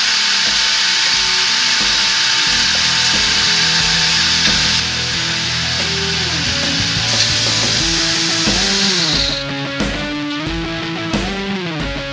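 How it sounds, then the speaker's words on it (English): A wood lathe turns a laminated sycamore and purple heart bowl, its motor giving a loud, steady whine whose pitch glides and shifts partway through, with no voices. "I can get the lathe running fairly quickly now, which is good."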